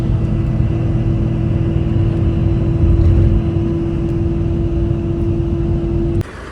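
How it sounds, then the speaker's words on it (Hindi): A luxury bus on the road to Jaipur drives fast, giving a steady loud engine drone and road rumble with a constant tone that runs unbroken for about six seconds, then drops suddenly. "बाकी गाड़ी तो बहुत ज़बरदस्त, बहुत तेज़ भगा रहा है।"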